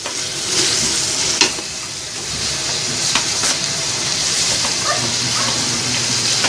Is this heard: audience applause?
no